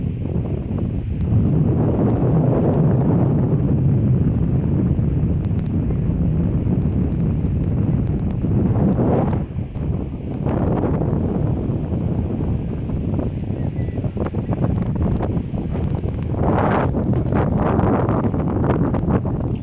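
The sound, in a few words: strong wind at a seaside fishing pier, wind noise on microphone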